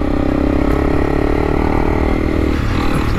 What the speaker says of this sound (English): The little Honda's running all right.